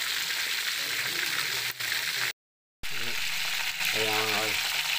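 Pork belly and chicken deep-frying in hot oil, a steady loud sizzle with a brief cutout midway and a voice speaking briefly over it near the end.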